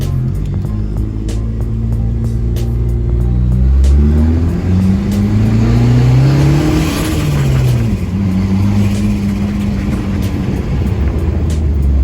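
A widebody Dodge Neon on freshly fitted coilovers drives along with a steady engine drone and rising, shifting engine tones as it accelerates, heard from inside the car with road noise and no talking.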